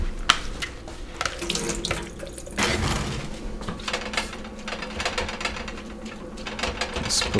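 Water runs steadily from a kitchen tap into a pot, a continuous splashing hiss with a few clinks and knocks of the pot along the way, with no voices.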